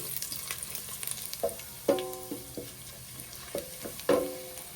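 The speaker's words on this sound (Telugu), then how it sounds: "ముందుగా ఎండుమిర్చి వేసి ఎండుమిర్చి గోలనివ్వాలి" Fenugreek seeds and dried red chillies frying in hot oil for a Telugu pumpkin curry, a low sizzle broken by several sharp scraping stirs and clinks of a spoon against the pan.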